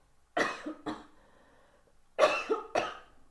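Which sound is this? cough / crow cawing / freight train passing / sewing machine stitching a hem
cough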